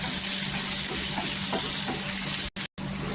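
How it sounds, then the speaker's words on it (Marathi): Chopped onion sautéing in hot oil in a pan for a dhaba-style capsicum dry sabzi, a steady close sizzle with soft stirring scrapes, cutting out briefly near the end. "तेलावर छान असं परतायचं।"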